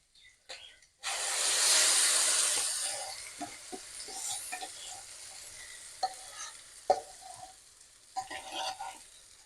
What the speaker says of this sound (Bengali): আর মোচা আর ডালটা যে মিক্সি করে রেখেছিলাম ওইটা এখন দিয়ে দেবো